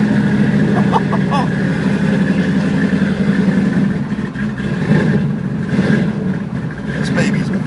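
A 1967 Ford Mustang GT500 engine rumbles and revs with a deep, steady drone that swells and eases slightly, heard close, with a brief dip midway.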